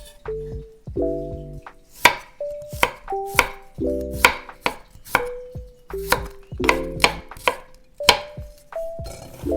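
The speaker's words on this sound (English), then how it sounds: "Peel the garlic and thinly slice the garlic." A knife thinly slices peeled garlic on a cutting board in steady, crisp chops, about a dozen sharp strikes spread evenly, close and clear with nothing else heard.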